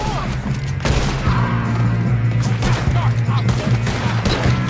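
Gunfire in Red Dead Redemption II comes as a rapid series of sharp gunshots and crashes, dense and loud, with a voice speaking amid the shots.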